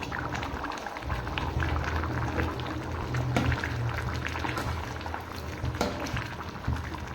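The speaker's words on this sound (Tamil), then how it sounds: "நம்மளோட குழம்பு நல்லா கொதிக்குது." Chayote and green pea sambar boils in a pot, a steady, dense bubbling and gurgling that continues without break and with no talk.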